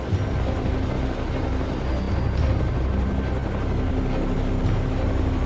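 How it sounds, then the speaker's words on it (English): A helicopter flies low over a herd of wild boar in Florida, its rotor and engine a steady, loud droning thrum with no voices. "When the sound of the helicopter roared, the herd of pigs immediately panicked"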